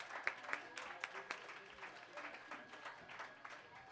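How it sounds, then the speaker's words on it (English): An open mic audience gives a modest round of applause, scattered hand claps with a few sharper near claps over a murmuring room, while a voice talks over it. "Let's give another round of applause for Bronwyn."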